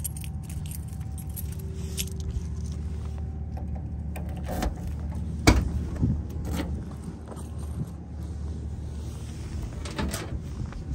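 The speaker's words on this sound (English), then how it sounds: "Gonna pop the trunk open for you quickly." The trunk of a 1969 Chevrolet Impala SS 427 pops open: a few faint metallic clicks and a sharp latch clunk partway through, under quiet steady background noise.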